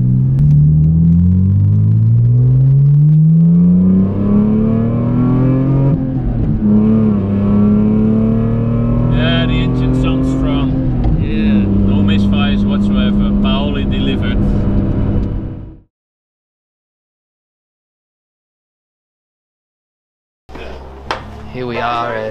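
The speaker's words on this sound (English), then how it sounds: "So we're now having a quiet test drive in the nice area around here." Car on a quiet test drive through a pleasant area near the Nürburgring, a steady engine rumble with rising and falling tone running for about fifteen seconds, then sudden silence before the drone resumes briefly.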